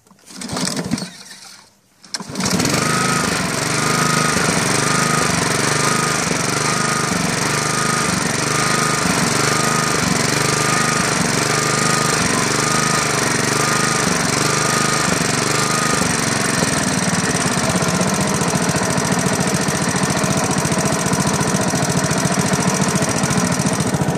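After a few sputtering pulls, a small lawn mower engine that had run out of gas and been treated with Seafoam catches and runs continuously, a loud, close, chugging drone with a slightly uneven, surging rhythm.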